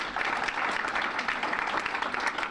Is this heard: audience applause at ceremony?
yes